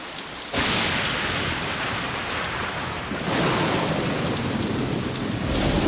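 Heavy rain and thunder from a stormy night in a Victorian mansion in San Francisco, in the Nancy Drew: Message in a Haunted Mansion game: a steady downpour swells as a rolling thunder rumble builds, with no voices.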